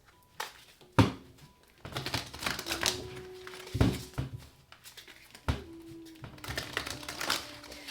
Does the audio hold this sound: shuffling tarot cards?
yes